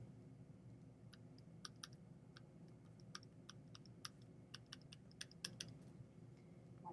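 Fingers tapping numbers on a calculator keypad, a quiet, irregular series of crisp little clicks over a faint low background hum.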